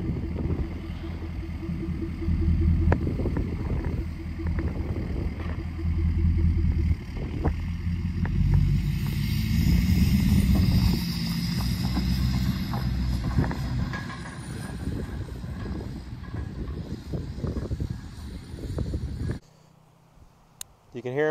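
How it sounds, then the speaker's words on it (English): A Ford Power Stroke diesel pickup drives away outdoors, its engine rumble loud and steady for most of the stretch before cutting off near the end, with people talking over it. "can hear him driving off in that Power Stroke, super nice truck"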